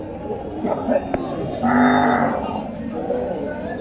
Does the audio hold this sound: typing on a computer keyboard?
no